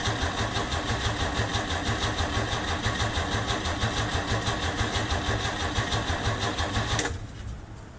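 A 1968 Chevrolet C10 truck engine cranks steadily and tries to start, a close, loud rhythmic churning that runs for about seven seconds and then cuts off abruptly, leaving a faint lower hum.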